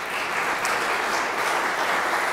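A church congregation at a Sunday service gives warm, continuous applause, a dense and even clapping sound that stays steady and fairly loud throughout.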